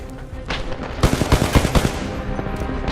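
An R-201 assault rifle fires in the shooter game Titanfall 2, letting off a loud, close burst of rapid automatic shots over a background of game noise.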